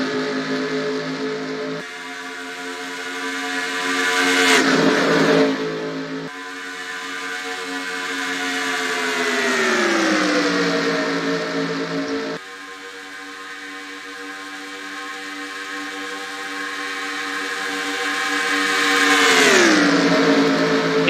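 Race car engines in NASCAR Racing 2003 at a superspeedway, a loud continuous multi-car roar with strong engine harmonics that rise and fall as cars pass and shift pitch, steady throughout with no talk.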